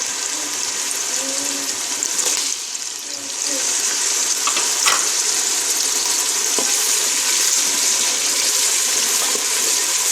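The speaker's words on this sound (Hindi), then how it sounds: "ऑयल गरम हो गया है, प्याज हमारा फ्राई होना शुरू हो गया है" Onions fry in hot oil for black masoor dal, a loud continuous sizzle close by, with a few faint clinks partway through and no speech.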